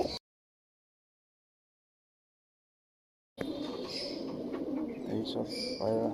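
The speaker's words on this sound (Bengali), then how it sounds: "এইসব পায়রা" Pigeons being readied for delivery coo softly after a few seconds of silence, low murmuring calls close by, faint at first and then steadier, with small rustles mixed in.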